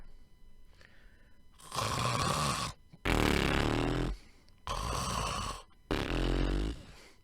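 A narrator's voice imitates an elderly grandmother snoring: four long, loud, rasping snores come at a steady, even rhythm, separated by short quiet pauses.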